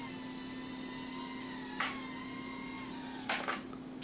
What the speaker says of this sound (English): let's just do a little flying right in here